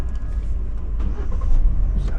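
Car engine cranked and started with the gearbox in neutral and the clutch pressed during a Turkish driving lesson, a low steady rumble rising slightly at the end, heard from inside the car.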